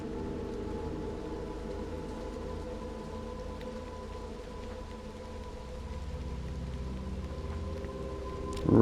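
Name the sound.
heavy rain in video game Little Nightmares 2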